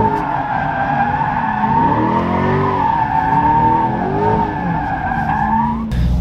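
Mid-engine C8 Corvette on brand-new sticky tires drifting, the tires squealing loudly in a sustained, wavering howl that rises and bends in pitch with the engine beneath, ending abruptly.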